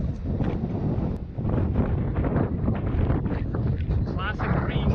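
Wind buffets the microphone on a barren, rocky Greek hillside near a small church and cemetery, a steady rough roar throughout with faint voices under it.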